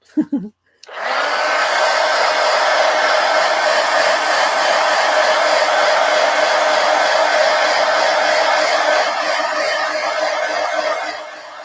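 A hair dryer blasts acrylic craft paint dry on an art journal page, a loud, steady, close whooshing roar switched on after a brief click and held for about ten seconds before easing off.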